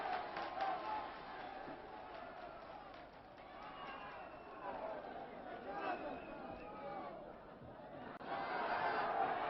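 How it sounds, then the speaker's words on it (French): A wrestling crowd in an arena applauds and cheers for a wrestler, a steady murmuring roar of clapping and shouts that swells toward the end, with a commentator talking over it. "Et il est très applaudi, très acclamé, le Petit Prince."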